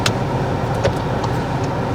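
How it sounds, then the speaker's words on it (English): Someone's first car pulls away from a standstill on a driving lesson, its engine giving a steady, close, moderately loud hum with road noise and a few light clicks, with no talking over it. "Right then, Raj, if you could move off when you're ready."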